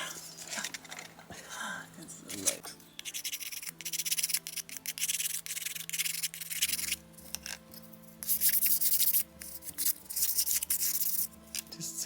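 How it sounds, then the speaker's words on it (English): Sandpaper rubs over a painted 1:12 scale miniature William & Mary blanket chest in short, close, scratchy strokes, the bursts starting and stopping in an irregular rhythm against a faint steady hum. "Just going to sand it to blend it in."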